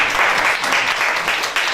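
Audience at a French cultural television show applauding after a song: loud, dense clapping close to the microphone, steady with slight swells, and no voices over it.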